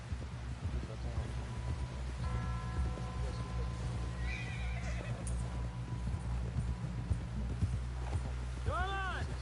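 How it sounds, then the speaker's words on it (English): Horse hooves gallop in Red Dead Redemption 2, a rapid, rhythmic clip-clop running throughout alongside horse whinnies and snorts, with voices speaking over the game sound. "Someone help John down off this horse."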